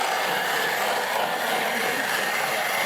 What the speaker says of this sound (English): I'm going to blend it up a little bit.